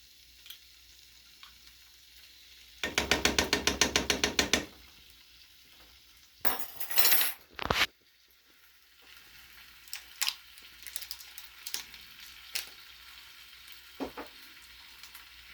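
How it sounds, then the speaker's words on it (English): Garlic dropped into a hot pan for Chinese-style stir-frying, giving a loud burst of sizzling with stirring, then quieter scraping and clinks of a utensil in the pan, with no voices. "Okay, and then I'm going to add my garlic."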